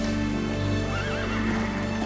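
A horse gives a loud, close whinny with a wavering pitch, set against steady background noise and a faint clip-clop of hooves.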